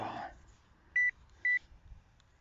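A metal detector sweeps over ground during outdoor detecting and gives two short, clear electronic beeps in quick succession against quiet background noise.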